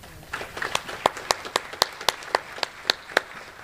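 Scattered handclaps at an Army change of command ceremony, a dozen or so distinct claps in an uneven rhythm, fairly close, with faint murmuring underneath.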